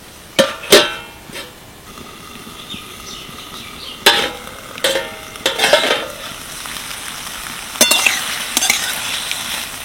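Okra cooked with salt and turmeric in a covered pan sizzles and fries close by, broken by several sharp clinks and scrapes of a utensil against the pan and lid.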